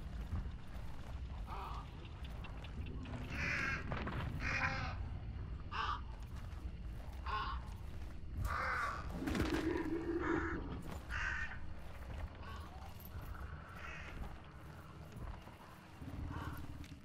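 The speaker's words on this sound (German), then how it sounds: "Die Raben hier sitzen noch." Harsh raven caws repeat over a busy Hunt: Showdown game soundscape, with clip-clopping hooves and creaking mechanisms mixed in at moderate loudness.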